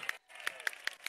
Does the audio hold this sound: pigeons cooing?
no